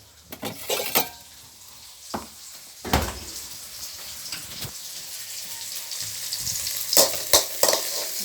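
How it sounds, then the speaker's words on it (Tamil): Food frying in a pan until golden brown makes a steady sizzle, broken by sharp clanks and scrapes of a utensil against the pan, with a brighter burst of crackling toward the end. "நல்லா பொன்னிறமாக வறுத்துருங்க"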